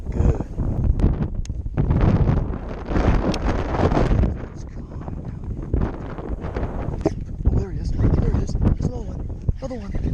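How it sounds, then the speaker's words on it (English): Loud wind buffeting the microphone beside a small fishing pond in Illinois, a steady low roar with gusty bursts while someone talks over it. "Wind's pushing into this though"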